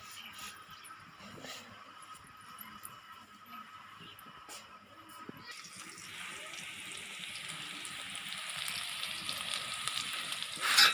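Onions frying in a pan in a home kitchen, a soft steady sizzle that swells louder in the second half, with faint clatter and background noise underneath.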